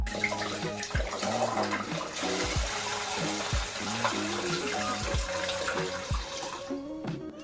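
Water runs from a kitchen tap while potatoes are set in cold water, a steady rushing flow throughout without talking.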